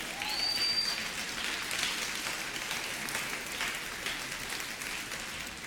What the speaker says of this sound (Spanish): se van a dar un aplauso al nombre